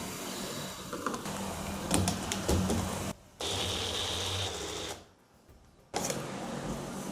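A mixer grinder blending fresh juice whirs loudly in bursts, stopping briefly twice before starting up again, with clattering as the contents spin.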